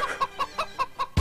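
Chicken clucking in quick, evenly spaced bursts, about five per second, close and fairly loud, ending with a low thump; no music or talk is evident.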